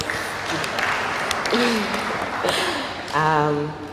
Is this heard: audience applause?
yes